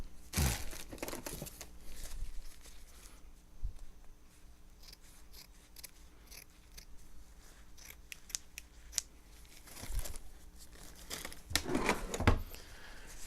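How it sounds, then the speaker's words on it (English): Scissors cutting a cloth rag during guitar neck finishing work: quiet, crisp snips and crinkling bursts at the start, then around the tenth and twelfth seconds, with soft handling noise between. "Let me get out my scissors."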